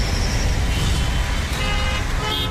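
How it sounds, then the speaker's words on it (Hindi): Dense traffic noise in a jam at the Delhi–Noida border, with engines rumbling continuously and horns tooting faintly now and then through the steady roar. "दिल्ली नोएडा बॉर्डर पर भी लंबी लाइनें हॉर्न बजा रही हैं।"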